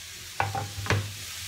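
Tomato and onion mixture stirred in a frying pan: a few distinct scraping clacks of a utensil against the pan over a low steady sizzle, close and fairly quiet, no talking.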